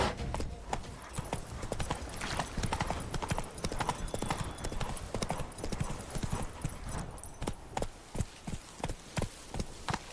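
Hooves of Roach, Geralt's horse in The Witcher 3: Blood and Wine, clip-clop in a steady trot, loud and close, with a brief whinny and light ambient sound underneath.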